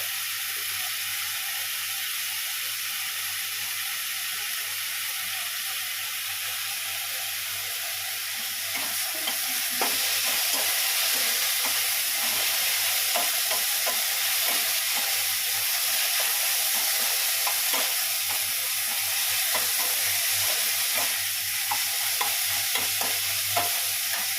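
Spice masala being stirred and fried in a pan, with steady sizzling and hissing throughout and scraping stir strokes that grow louder and busier in the second half, heard close and alone without talk.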